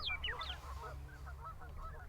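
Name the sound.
ducks calling: mallards, pintails and widgeons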